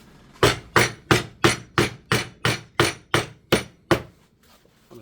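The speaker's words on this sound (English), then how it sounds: "I'm just going to take the hammer." A hammer strikes leather being shaped into medieval-style boots, ten sharp, evenly spaced blows at roughly two per second, close and loud, then a couple of faint taps.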